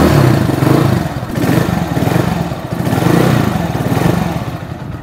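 An RPS Condor 150, a carbureted Honda Grom clone motorcycle, sputters through its first-ever start, the small engine running loud and close with uneven, surging revs and no talk.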